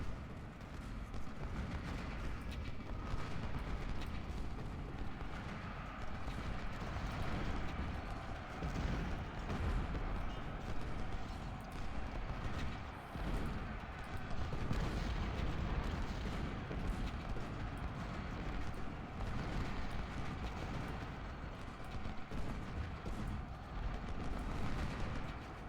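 Civil War cannon and artillery fire in the strategy game Ultimate General: Civil War, a dense continuous roar of booms and rumbling battle noise lasting the whole stretch, with no clear gaps between shots.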